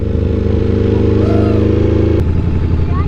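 A Ducati V4S big bike carries a passenger, its engine a steady loud drone with a shift in tone near the end, heard up close while riding.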